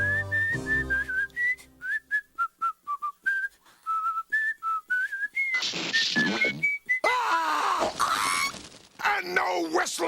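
A clear whistled melody of short repeated notes, followed by louder honking and squawking sounds.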